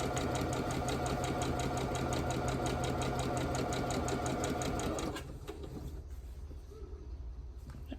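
A sewing machine with a drop-in bobbin, stitching a gnome quilt block, runs in a fast, even rattle for about five seconds, then stops, leaving quiet room noise.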